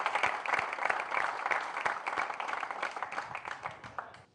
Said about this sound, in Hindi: एक बार जोरदार तालियों के साथ स्वागत कीजिएगा